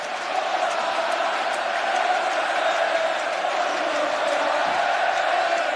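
Football crowd in a stadium during a match, a steady, dense roar of many voices singing and cheering at a distance, sustained and even throughout with no clear breaks.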